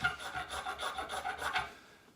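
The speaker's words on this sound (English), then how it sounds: "Let's see how it's gonna scrape the magnesium." A kukri knife scraped along a block of magnesium, heard as a rapid series of about eight rasping, filing strokes, close and moderately loud, ending in a fading tail, with no speech.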